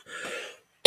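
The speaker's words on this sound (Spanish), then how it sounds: "Tengo una necesidad de toser." A man who has been ill coughs during a spoken discussion, a close, rough cough followed after a short pause by the sharp start of another, with no speech over it.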